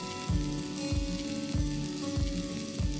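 Ginger paste sizzles and fries in a hot pan, a steady crackling hiss with rhythmic scraping strokes as it is stirred, fairly close.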